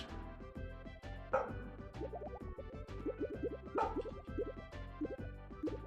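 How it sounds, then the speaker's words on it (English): Dogs bark in The Lost Vikings 2 video game, a few short yelping bursts cutting through a bouncy, melodic game soundtrack that plays throughout. "Fuck you, dogs."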